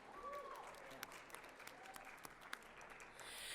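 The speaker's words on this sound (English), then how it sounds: "Let's give everyone who cosplayed a big round of applause." A Comic Con cosplay pageant audience claps as a thin, faint patter of applause with a few sharper individual claps standing out, heard from a distance under some quiet voices.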